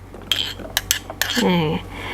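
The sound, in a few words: pouring chopped carrots into steamer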